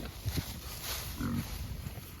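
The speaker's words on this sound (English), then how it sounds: "Pigs are good in the cold." Pigs rooting through leaves in cold weather give a few low, soft grunts at moderate distance, separated by pauses over faint background noise.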